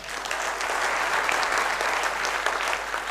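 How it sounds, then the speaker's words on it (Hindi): Audience applause at a company business meeting in Hindi, a dense steady wash of clapping from many hands, loud and continuous throughout with no voices over it. "ताली बजना चाहिए।"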